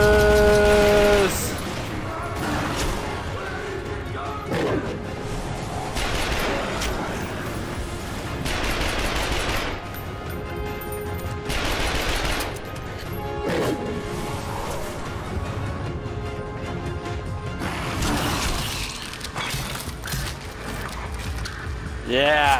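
Bursts of gunfire from a gun-channeling ability in The Darkness 2 rattle in repeated volleys over about twenty seconds, loud and dense, with a player talking in between.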